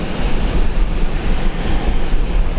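A Fiji Airways airliner taxiing out at Brisbane International Airport, its jet engines giving a steady loud rumbling roar with broadband hiss that holds throughout, no voices.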